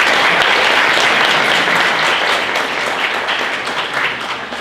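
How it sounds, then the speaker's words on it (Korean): An indoor lecture audience gives a steady, full round of applause for a union leader, a dense wash of many hands clapping at once, loud and even throughout and fading slightly at the end. "박수 한번 부탁드리겠습니다"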